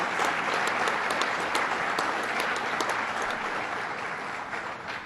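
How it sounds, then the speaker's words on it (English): Sustained audience applause fills a hall at a Staten Island public event, dense and loud throughout, with a sharper clap or two standing out near the front and the volume easing slightly toward the end. "So give yourselves a round of applause for what you've done."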